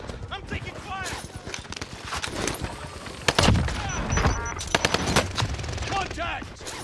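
Rapid bursts of automatic gunfire from the H4 Blixen and other weapons in a Call of Duty Warzone firefight, loud and close, repeating in quick strings with heavier blasts partway through, while a player talks over the shooting.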